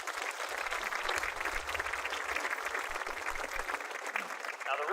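Steady applause from a crowd at a high school band demo, with dense clapping holding at an even level throughout and some voices faintly mixed in.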